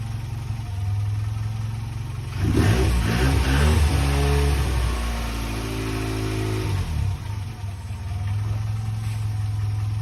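A Ford Sierra Cosworth 2WD engine idles steadily, then revs up sharply around the middle with a rough, shaking note before settling back to a low, even idle, heard up close with no talking.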